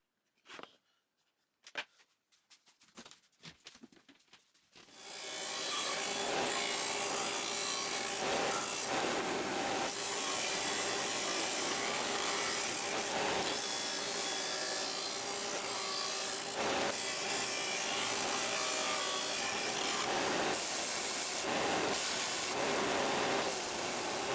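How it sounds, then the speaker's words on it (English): A belt sander grinds the corners of 2x4 wood parts for a plant stand, starting after a few faint knocks and then running loud and steady as the wood is pressed against the belt. "I decided to go right to the belt sander for those"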